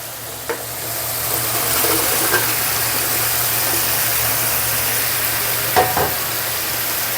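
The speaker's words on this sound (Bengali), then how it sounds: "হালকা তেল ছেড়ে দিলেই সবজিগুলো দিয়ে দিব।" Vegetables dropped into hot oil with spices for a Bengali ridge gourd (dhundul) and bata fish curry, frying in a steady broadband sizzle with a few soft stirring clicks, close and continuous with no talking.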